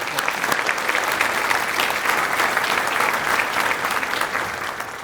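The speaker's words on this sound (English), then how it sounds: "Let's give them a round of applause." Steady applause from a large crowd at a youth awards luncheon, dense clapping sustained throughout at an even level before tapering slightly at the end.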